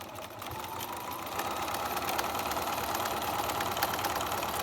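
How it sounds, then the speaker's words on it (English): A sewing machine runs steadily, stitching 2 1/4 inch seams on small fabric pieces with back stitching at both ends, a continuous close whir that keeps up without pause. "we're going to do 2 1/4 inch seams, one on each side, sewing these little things together, back stitching at both ends"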